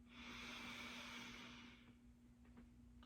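A slow, deep breath is drawn in during a guided meditation. It sounds close and breathy, fades after about two seconds, and runs over a faint steady hum.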